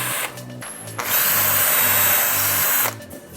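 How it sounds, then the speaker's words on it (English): A screw gun fitted with a carbide drill bit bores vertically into a ski: a brief start, then a loud, steady high-pitched whine for about two seconds before it winds down, close and alone. "So I go vertically, use the screw gun."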